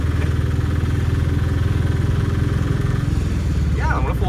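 Engine of a moving auto-rickshaw held in fourth gear, a steady low droning hum with a constant throbbing pulse, fairly loud and continuous throughout, with a brief higher whine near the end.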